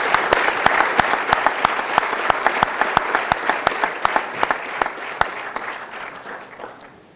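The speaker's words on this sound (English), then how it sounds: "let's give all of our award recipients another round of applause" A round of applause for award recipients at a sheriff's office promotion and awards ceremony, a steady wash of clapping with a few sharp, close individual claps standing out, gradually tapering off.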